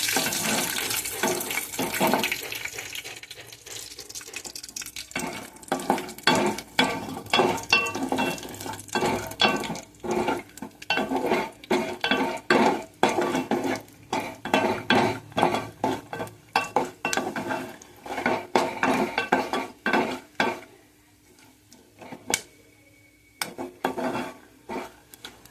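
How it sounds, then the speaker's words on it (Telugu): Grated coconut being lightly fried and stirred in a pan on a low flame for gutti vankaya curry, with steady rhythmic scraping and clinking of a utensil against the pan, fairly close, plus faint sizzle and no talk. "ఇప్పుడు ఈ కొబ్బరి కూడా వేసి వేయించుకోవాలండి"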